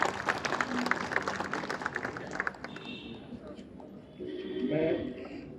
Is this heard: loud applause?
yes